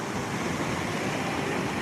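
The Grizzly Mountain waterfall at Disney California Adventure gives a steady broadband rush of falling water, continuous and moderately loud, with no speech.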